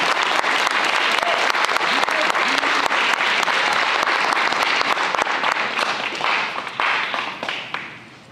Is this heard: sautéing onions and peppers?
no